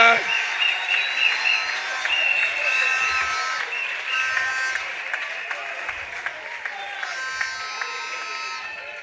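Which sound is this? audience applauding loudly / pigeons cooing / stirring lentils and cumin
audience applauding loudly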